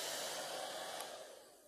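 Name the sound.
hair dryer blowing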